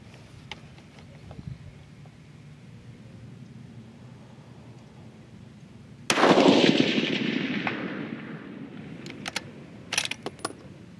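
A single loud, sharp rifle shot is fired during charge weight load testing with a 44.1-grain powder charge. The blast is followed by a long, fading outdoor echo and a few faint metallic clicks afterward.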